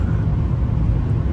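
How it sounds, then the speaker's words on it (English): Steady low rumble of a vehicle cabin on the move, engine and road noise muted and even, with no voices. "Listen to how quiet this truck is."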